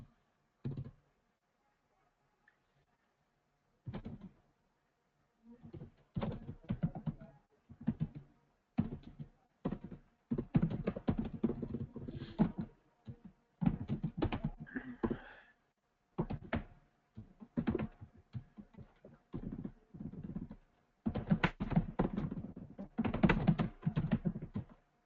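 Log entries typed on a computer keyboard, quiet close bursts of rapid key clicks separated by short pauses, with no speech.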